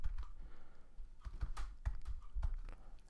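Keys on a computer keyboard are tapped in a few quick, uneven bursts, close by and fairly quiet, with no voices.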